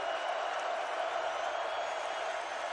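A football stadium crowd at Temple vs. East Carolina, a broad, continuous roar of cheering at fairly even loudness throughout.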